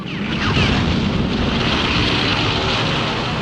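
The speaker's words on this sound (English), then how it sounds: "Planes from a massive armada surprise the U.S. Pacific Fleet at Pearl Harbor" Japanese warplanes from a massive armada attacking the U.S. Pacific Fleet at Pearl Harbor in December 1941, a loud, steady roar of propeller aircraft engines with rumbling blasts beneath, sustained throughout with no voices.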